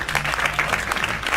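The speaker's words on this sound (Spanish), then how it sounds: "Un aplauso, por favor." Studio audience applauding a guest's welcome on a Spanish-language talk show about exporters, a dense, steady burst of clapping filling the short moment.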